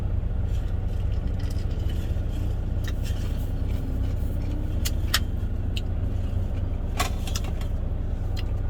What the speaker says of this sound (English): There's trucks coming in and out here